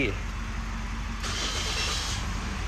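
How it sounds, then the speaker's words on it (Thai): A car engine starts by push-button with the brake pressed; a steady low rumble gains a brighter, louder hiss partway through and settles into a close, even idle with no talking. "ถ้าจะสตาร์ทนะผม ให้เราเหยียบเบรกนะครับ"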